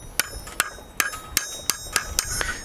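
A hand hammer strikes a steel scroll on an anvil with a horn during beginner blacksmith forging, giving about eight sharp, ringing metallic blows in a steady rhythm, close and loud with no talking.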